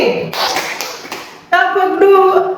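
A group of people clap out the short 'tepuk pagi' rhythm pattern, a few quick, distinct claps in sequence, with a voice speaking over the end.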